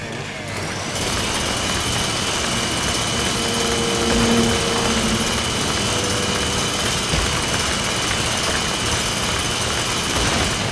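A powered drill runs steadily in a Resident Evil Revelations 2 game scene, a continuous high whine with engine-like droning that holds at an even, loud level after a brief quieter start.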